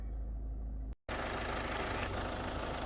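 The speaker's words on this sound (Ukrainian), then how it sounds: "Ось так працює двигун." A Ford Focus 1.6 diesel engine idles steadily with a low, even rumble up close, interrupted by a brief moment of silence.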